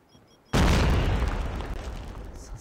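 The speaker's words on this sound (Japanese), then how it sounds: "爆発が起きてるんだ。" A big explosion in a shooter video game bursts out suddenly after a quiet moment, a loud deep boom that rumbles and slowly decays over the next two seconds.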